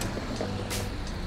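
Al Hijrah intercity bus pulling into a terminal in Indonesia, a heavy diesel engine rumble with a short hiss of air brakes, close and loud for a moment.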